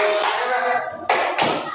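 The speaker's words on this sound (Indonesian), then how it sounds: "tepuk tangan buat kelompok naga" Elementary schoolchildren in a fifth-grade classroom clap for a group, bursts of many hands clapping with sharp onsets, close and loud, with a voice briefly audible.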